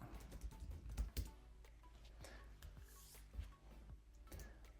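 Someone types an IP address on a computer keyboard, a few soft, close keystrokes tapping irregularly against a quiet room.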